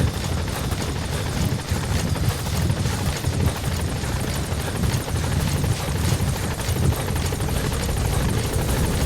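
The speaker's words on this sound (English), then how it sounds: "Support helicopter has arrived." A support helicopter arrives in Metal Gear Solid V: The Phantom Pain, its rotor chopping loudly and continuously with a dense whooshing wash and engine whine throughout.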